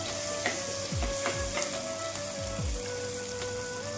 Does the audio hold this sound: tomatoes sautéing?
yes